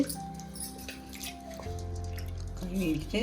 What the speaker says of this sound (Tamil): பருப்பு தண்ணியில் கொட்டி நல்லா கழுவிட்டு